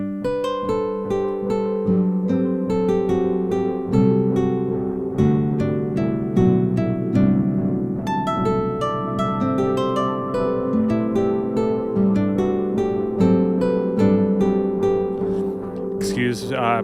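Electric guitar through a Black Fountain delay pedal, playing clean melodic notes and chords that ring out with repeating echoes trailing behind each phrase, steady and moderately loud with no talking.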